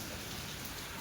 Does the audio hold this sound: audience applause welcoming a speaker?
no